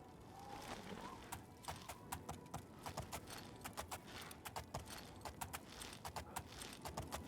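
A paint horse trotting in The Elder Scrolls IV: Oblivion, its hooves clip-clopping in a quick, steady stream of sharp clicks that begins after a quiet moment and continues over faint background ambience.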